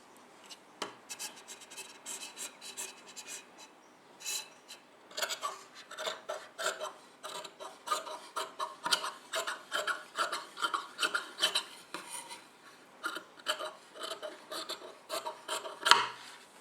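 Scissors or a blade cutting fabric for a summer dress at the shoulders, a steady series of close, rasping snips and rubs that pause briefly and then continue without talk.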